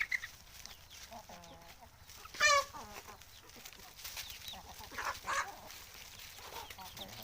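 Free-range chickens cluck and squawk at a moderate distance, with one loud burst of calls partway through over a quiet outdoor background.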